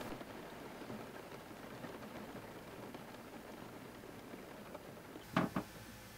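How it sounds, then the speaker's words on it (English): Steady soft patter of drizzling rain in the Alaskan wilderness, a fine continuous hiss throughout, with a couple of brief sharper knocks near the end. "It's very rainy and drizzly outside."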